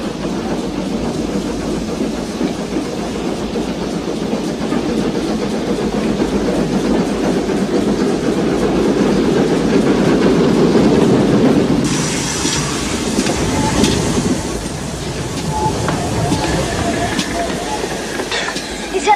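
A train at a station bound for Vienna rumbles loud and steady for several seconds, then gives way to a sharp high hiss and clatter as the low rumble fades.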